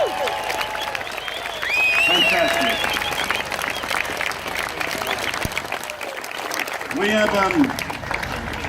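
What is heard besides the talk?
audience applause and cheering for veterans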